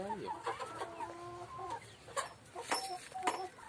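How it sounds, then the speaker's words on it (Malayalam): A young hen and a rooster cluck nearby, a string of sharp, separate calls, some drawn out, some clipped short, rising and falling in loudness with gaps between them. "ഇത് നമ്മളുടെ കുഞ്ഞു പെടക്കോഴി. ഇത് പൂവൻ കോഴിയാണ്, പറന്നുപോയി."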